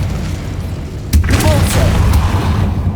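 A fire spell cast in Hogwarts Legacy bursts with a sudden booming whoosh and crackle, followed by a few more sharp magical bangs over a constant low game rumble.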